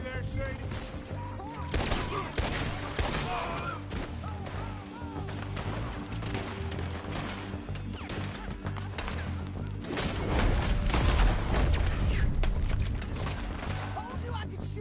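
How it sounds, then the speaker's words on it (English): Gunfire in Red Dead Redemption 2 crackles in a busy shootout, with repeated shots and volleys under a music score, building to a denser, louder stretch of firing near the end. "Told you I could shoot a gun."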